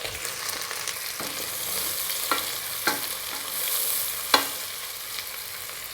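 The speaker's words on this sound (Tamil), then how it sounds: "இப்போ கட் பண்ணி வச்சுருக்கிற வெங்காயத்தை இது கூட சேர்த்துடலாம்." Chopped onions frying in oil alongside whole cinnamon, cloves and cardamom for a South Indian ghee rice and salna, a steady close sizzle with a few sharper crackles and pops, no voices.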